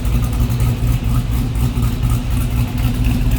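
The 5.3 V8 of a 1953 GMC 5-window short box street rod idling, a loud, steady low rumble with a throbbing, even pulse heard close from the rear, with no talking.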